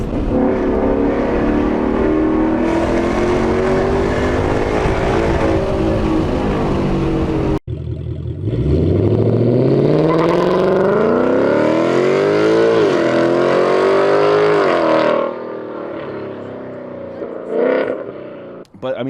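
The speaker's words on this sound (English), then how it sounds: "that's full-on Race X pipe with those pipes mufflers" A car with a full Race X pipe exhaust and pipe mufflers revs hard, a loud close engine drone rising and falling in pitch, with a brief break and then more revving, while a voice talks faintly underneath.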